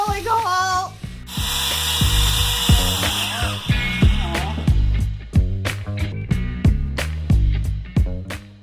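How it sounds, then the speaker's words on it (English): A power drill bores into kitchen cabinetry, opening with a sustained whirring run, then clicking and ratcheting in a regular series of sharp bursts that stay loud and close to the end. "Oh, he's drilling a hole!"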